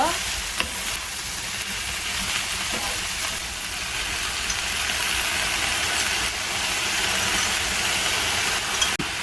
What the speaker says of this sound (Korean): 반드시 콩나물만 먼저 넣고 볶아주세요.